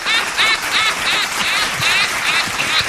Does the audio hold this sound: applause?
yes